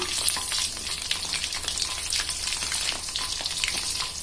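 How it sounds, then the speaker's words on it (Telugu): Fish pieces, washed with salt and turmeric, fry in a pan for fish pickle, a steady crackling sizzle with small pops as pieces are added one by one, close and continuous. "వాటితో పాటు ఇవి కూడా వేగిపోతాయి ఈ విధంగా ఒక్కొక్కటిగా నెమ్మదిగా వేసుకోవాలి"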